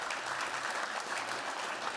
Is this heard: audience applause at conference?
yes